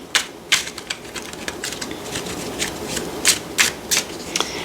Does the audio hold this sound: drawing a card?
yes